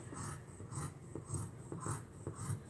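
Scissors chomp through four thick layers of quilt fabric in a slow, regular series of muffled crunching snips, close and fairly quiet, with no voices.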